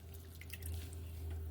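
Leicester Longwool soaked in hot coffee dye is lifted out of the pot, and quick close drips and trickles of liquid patter back into it over a low steady hum.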